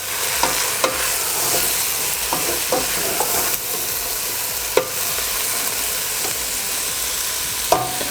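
Mushrooms frying in a pan for a mushroom and capsicum sabzi, a loud steady sizzle close up, broken by a handful of gentle spatula scrapes and sharp taps against the pan as the pieces are slowly stirred.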